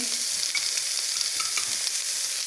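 Bacon and scrambled egg frying in rendered fat and added oil in a pan, a steady close hiss of sizzling with faint crackles, no talking.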